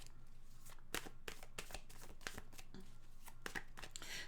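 Tarot cards are handled and shuffled up close, making soft riffling and slapping sounds in irregular bursts over a quiet background.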